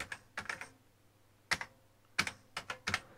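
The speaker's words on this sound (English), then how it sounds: "I'm going to type save and we'll call it tape test." Typing on an Amstrad home computer keyboard: close, crisp clacking keystrokes in short irregular clusters with brief pauses between them.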